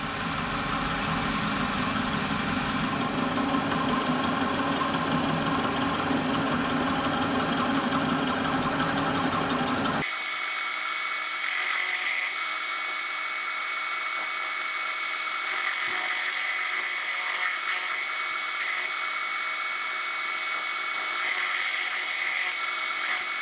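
A machine tool mills the tops off metal parts held on a rotary table for a GTWR indicator holder, giving a steady, loud whining grind that continues unbroken and changes tone partway through as the cut shifts.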